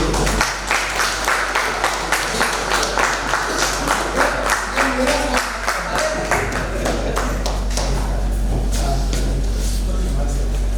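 Audience at a Hindi poetry book launch clapping in a steady run of distinct, close claps that carries on for several seconds, with speech mixed faintly underneath.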